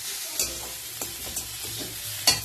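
Egg fried rice being stirred in a pan with fried egg bits, a close, soft sizzle broken by several sharp scraping strokes of a utensil.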